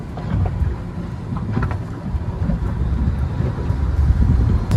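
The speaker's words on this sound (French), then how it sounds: "En poussant le joystick vers l'avant, j'ai donc mes 2 moteurs qui passent en marche avant." Twin Yamaha outboard engines on a boat, shifted into forward gear by joystick, give a steady low rumble of motor and water with wind buffeting the microphone, holding evenly and building slightly toward the end.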